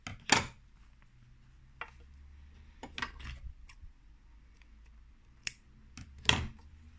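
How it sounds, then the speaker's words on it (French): Scissors snip thread flush after a button is sewn on with a sewing machine: a handful of sharp, isolated cuts spaced a second or more apart over near silence. "Bon, là je vais couper à ras"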